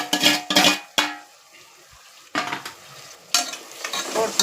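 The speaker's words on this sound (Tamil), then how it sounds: "போட்டு நல்லா அதை வதக்கி விடலாம் நல்லா மிக்ஸ் பண்ணி விட்டு" Onions, tomatoes, green chillies and curry leaves sautéed in a pan, with bursts of stirring and scraping that pause and resume, close and moderately loud, no talking.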